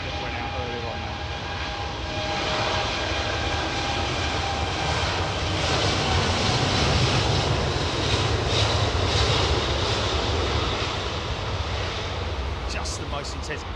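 A Virgin Boeing 787 Dreamliner jet rumbles at London Heathrow Airport with a broad, continuous engine roar that builds and holds steady, while someone talks over it.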